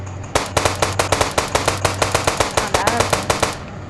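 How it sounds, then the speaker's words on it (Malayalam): AK-47 fire in the mobile game Indian Bikes Driving 3D rings out as a loud, rapid automatic burst of evenly spaced shots lasting about three seconds, then cuts off. "AK-47 വെച്ച് വെടി വെക്കണം"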